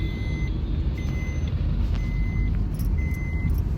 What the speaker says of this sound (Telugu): పెద్ద అబ్బాయి డ్రైవింగ్ చేస్తాడు